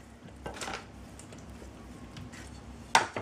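Cooked pasta for macaronis d'alpage being placed into a gratin dish, soft scraping and a few quiet clinks of a utensil against the dish, ending in a sharper knock, close by in a kitchen.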